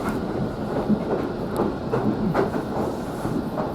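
A GO Transit commuter train, number 3725, heard from on board while riding: a steady low rumble and hiss with faint rhythmic rail clicks running throughout.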